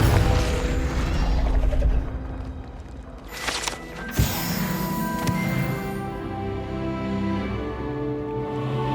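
A Confringo blasting spell cast in Hogwarts Legacy, heard as a sharp burst and crash around the middle, followed by ringing magical tones and a lingering shimmer over game ambience.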